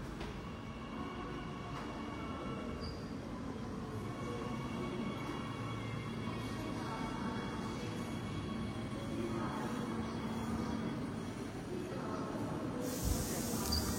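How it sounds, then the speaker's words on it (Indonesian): Jakarta LRT light rail train running at speed, a steady low rumble with faint hissing and rail noise from inside the car, continuous and fairly quiet with no voices. "Untuk kecepatan LRT Jakarta ini, kecepatannya 55 km per jam."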